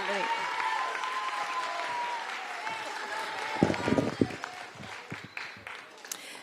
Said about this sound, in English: let's have one more round of applause for Mr.